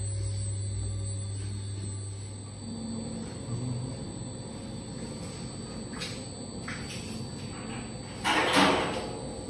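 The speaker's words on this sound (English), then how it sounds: "you can probably hear the motor, the stirrer, keeping that sort of milk uniform" A milk pasteuriser's stirrer motor runs on a farm, giving a steady low mechanical hum with a constant tonal whine, joined late by a brief clattering knock.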